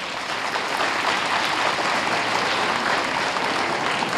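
Steady round of applause from an audience at a school event welcoming guests, a continuous even wash of clapping throughout.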